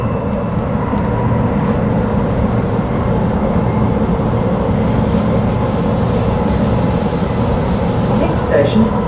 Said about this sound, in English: it's going to be really cool to see the brand new Australian train going along these